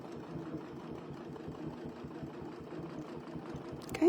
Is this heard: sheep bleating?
no